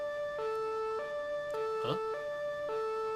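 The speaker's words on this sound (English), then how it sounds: "Oh, another ambulance." An ambulance siren in the JoJo's Bizarre Adventure video game wails in a steady two-tone hi-lo pattern, alternating about every half second at moderate volume, with a voice briefly heard over it.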